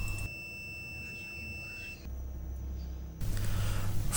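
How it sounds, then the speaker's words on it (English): Steady high electronic beep tones from an Honor 8C phone speaker test ring out for about two seconds, then shift to a fainter tone over a low hum, ending in a louder broadband rumble. "Beep test showed that this part is working well."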